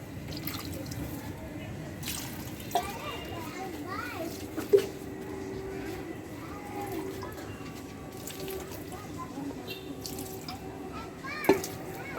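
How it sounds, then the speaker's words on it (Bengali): Water trickles and splashes softly onto potted plants in a balcony garden, with a few sharper drips and clinks, while children's voices and faint street noise carry in the background. "জল দিয়ে দিলাম গাছগুলোতে।"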